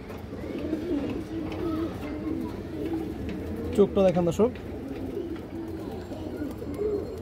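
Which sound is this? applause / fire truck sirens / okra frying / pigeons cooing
pigeons cooing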